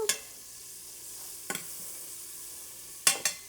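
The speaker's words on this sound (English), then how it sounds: "Sizzle." Butter in an Instant Pot set to sauté, giving a steady soft sizzle with three short stirring scrapes spread across the clip, close and fairly quiet.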